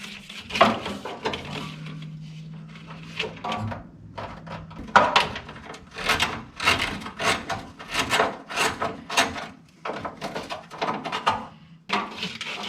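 Cutters snip and tug at radiator fan wiring and relays on a Dodge truck, producing a dense series of short crisp clicks and rustling scrapes, close and irregular.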